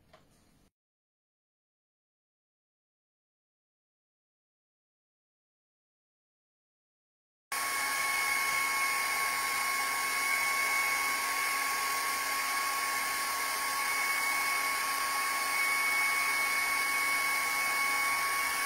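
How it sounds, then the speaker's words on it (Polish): After a long silence, a hair dryer switches on, blowing cold air to spin a balloon pinwheel, with a loud, constant whooshing hum and a faint high whine. "zimne powietrze, które wydmuchuje się z suszarki powoduje, że te balony się kręcą"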